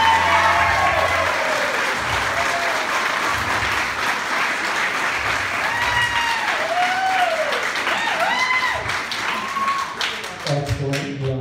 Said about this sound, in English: So audience, give them a nice big round of applause